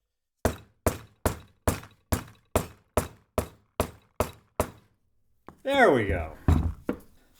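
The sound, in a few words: rubber mallet tapping wood block onto brake seal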